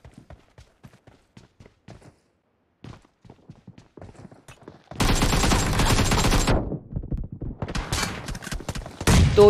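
Gunfire crackles in a shooter video game team deathmatch: scattered single shots and footsteps first, then a dense, loud sustained spray of automatic fire, with further bursts toward the end.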